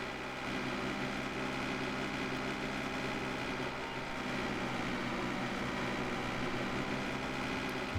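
A tractor engine runs steadily in an Iowa farm field, a continuous low droning hum at even volume with no breaks, nearby and alone without talk.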